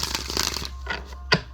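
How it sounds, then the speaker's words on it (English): A deck of tarot cards is riffled and shuffled by hand, a dense papery flutter for about half a second followed by a few separate taps and a sharp card snap, close and clear. "One more shuffle."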